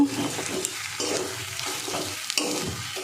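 A paste of prawns and pointed gourd fries in oil while being stirred, giving a loud crackling sizzle broken by rhythmic scraping strokes, with no talk.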